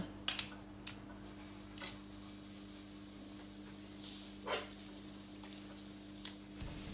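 Waffle batter cooking in a hot Free-brand waffle iron with 4-7 plates set between thermostat 7 and 8, giving a faint steady sizzle and hiss over a low electrical hum, with a few small clicks near the start.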